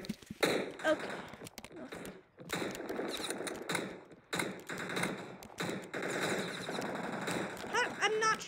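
Gunfire from a battle game, with dense bursts of rapid shots in repeated volleys broken by short pauses, loud and close, mixed with clicking mechanical sounds and game effects.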